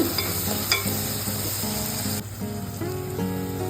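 Continuous hissing sizzle of tempering spices frying in hot oil, steady and close, with faint background music.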